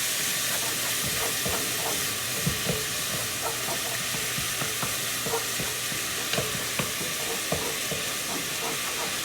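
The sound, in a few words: onions sizzling in broth in a stovetop pot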